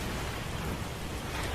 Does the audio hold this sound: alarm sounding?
no